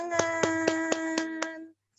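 Children clap their hands in a fourth-grade class: six evenly spaced, crisp claps in a steady rhythm over a sustained tone, then a brief silence.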